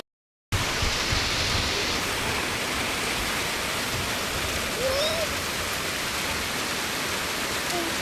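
Very heavy rain pours down steadily as a dense, loud, unbroken roar that fills the whole clip, with no voices over it.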